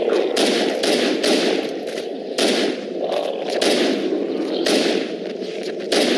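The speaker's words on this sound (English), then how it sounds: "Shotgun." A shotgun fires repeatedly in Halo while fighting the Flood, its loud, full blasts spaced roughly a second apart over a dense, continuous backdrop of game noise.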